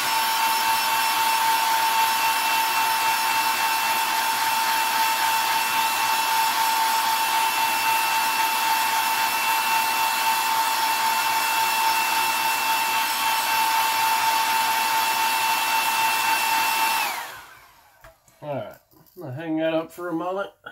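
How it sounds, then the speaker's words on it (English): A heat gun roars with a steady whine and blower hiss while heat-setting pearl paint on a shad-pattern crankbait, running continuously and close for about seventeen seconds before shutting off, then someone speaks. "It is pearl. We're going to heat set it again."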